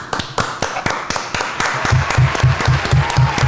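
Enthusiastic applause from a crowd, steady rapid clapping that grows fuller and louder over a few seconds, with faint voices underneath.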